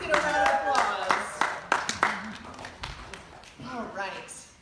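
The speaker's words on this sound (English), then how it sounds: "Let's get a round of applause." Crowd clapping at the start of an academic bowl tournament, a burst of claps with scattered cheers and voices mixed in, fading after a few seconds.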